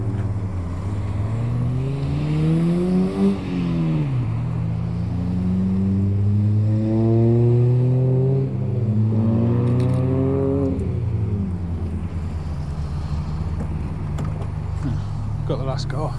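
A Ford Fiesta drives past with a loud engine whose pitch climbs through several gear changes in rising sweeps, then fades into a steady drone and lighter traffic noise.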